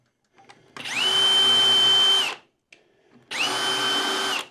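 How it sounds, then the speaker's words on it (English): A power drill drives screws down through plywood into a cleat underneath during a table-saw dovetail prototype build. Two close, loud, steady whining bursts, each about one to one and a half seconds, are separated by a short pause with faint handling noise. "I'm going to drive screws down through the plywood into the cleat underneath."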